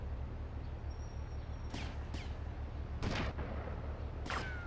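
Several sharp gunshot cracks go off in GTA Vice City Stories, spaced over a few seconds with short echoing tails, over a constant low engine drone with no talking.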